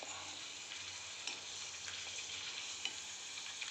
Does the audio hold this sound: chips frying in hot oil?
yes